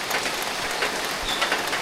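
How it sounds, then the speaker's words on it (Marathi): Steady rain falls in a Konkan village, a soft continuous hiss with scattered drop patters and no voices. "पाऊस काय आता थांबत नाही वाटतं."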